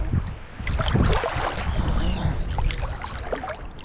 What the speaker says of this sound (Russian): уже ветерок дует, и брызги летят в камеру